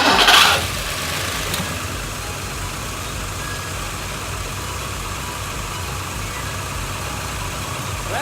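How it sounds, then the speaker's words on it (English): A 1958 DeSoto Firesweep's engine starts without priming. A short cranking burst catches almost immediately, then settles into a steady, low idle that carries on alone. "Gonna give it a shot at starting. I'm gonna try and do it without priming."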